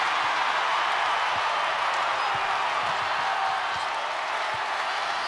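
Standing basketball crowd at an Iowa vs Iowa State women's game, Cyclone fans roaring in a steady, dense wash of cheering and applause that holds loud throughout.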